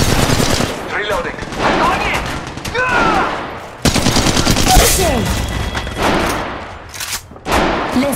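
Rapid automatic gunfire bursts from the video game Apex Legends, loud and dense, interspersed with explosive impacts and brief pauses, with voices speaking faintly in the mix.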